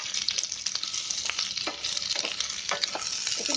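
Sweet potato pieces and green chilli sizzle steadily in ghee in a pan, a continuous bright frying hiss with scattered pops and crackles and occasional stirring scrapes, close and alone without any talk.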